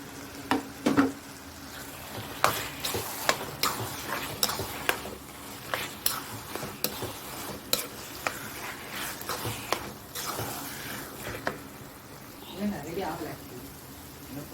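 Brinjal stirred into masala frying in a pan, with a soft sizzle under irregular scraping and clinking of a spoon against the pan.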